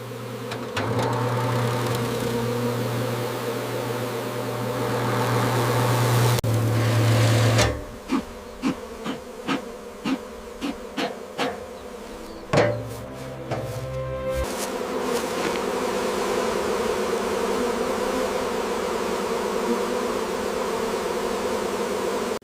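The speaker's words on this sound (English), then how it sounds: "we gently sweep the bees off the comb" Honey bees buzz around honeycomb being swept off during honey harvesting, a steady droning hum with a low mechanical whine and a run of rhythmic clicks partway through.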